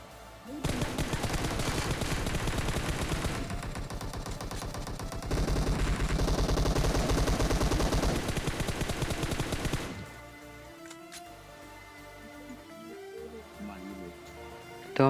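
Rapid automatic gunfire in a shooting video game crackles in loud sustained bursts for several seconds, then gives way to quieter scattered shots and game sounds.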